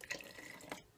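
Water pours from a cup into a bowl of sourdough starter, a short, soft splashing trickle with two brief louder bursts.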